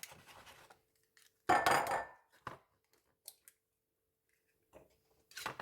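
Cracked eggs being mixed for a macaroni casserole, with scattered utensil clicks and scraping against a dish, a few louder bursts among quiet gaps.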